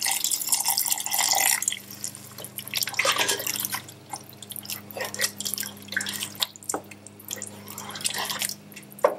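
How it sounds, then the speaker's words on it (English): Water is poured into a pot of cream of mushroom soup, producing uneven splashing, dripping and gurgling close by over a low steady hum. "add the water"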